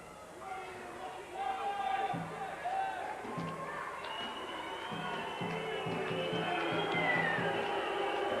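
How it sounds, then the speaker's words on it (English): Rugby league crowd at Sheffield before an important kick against Hull, a broad rising roar and chatter with distant shouts and whistles, steady and swelling under commentary. "Sheffield crowd making a noise, as you'd expect"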